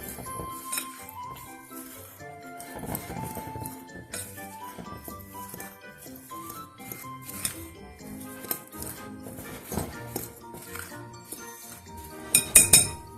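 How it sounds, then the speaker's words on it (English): A fork clinks against a bowl while mixing dry oatmeal cookie ingredients with a pinch of salt, rapid irregular metallic taps and scrapes close up, ending in a quick flurry, with no talking. "I take my fork, I mix everyone around real good"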